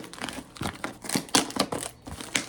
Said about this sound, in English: I just ripped the box